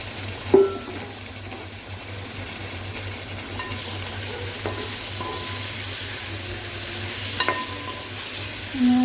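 Cooked chicken pieces stirred through a masala gravy in a pan for a chicken gravy, with a steady close sizzle and bubbling, a few light clinks of the spoon against the pan, and no speech.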